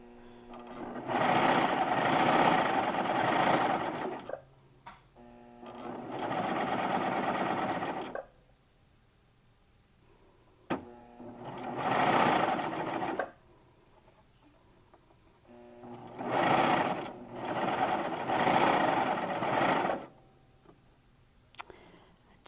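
A serger sewing machine stitches a shirt seam in four loud, close bursts of rapid whirring, each lasting a few seconds, separated by quiet pauses with faint handling clicks.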